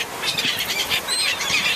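A bird being fed on a sandy Florida beach gives a few thin, high chirps over soft outdoor background noise.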